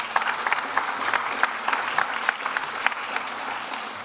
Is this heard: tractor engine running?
no